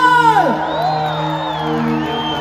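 A crowd at the Shimla Summer Festival cheers, with loud whoops and shouted voices rising and falling over a continuous roar of the audience.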